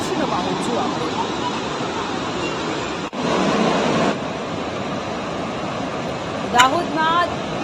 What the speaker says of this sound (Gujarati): દાહોદમાં પાનમ નદી કે જે બે કાંઠે વહી રહી છે